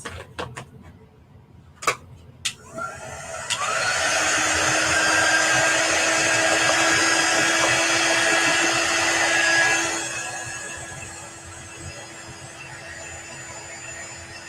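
A dryer blows steadily for several seconds to dry a Chalk Couture transfer, a loud even whir with a rising whine that cuts off, preceded by a few sharp clicks and handling knocks.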